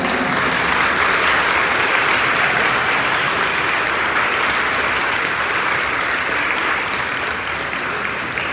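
Sustained, even applause from a crowd honoring eighth-grade award recipients at a middle school ceremony, a steady wash of clapping with no voices over it that fades gently near the end.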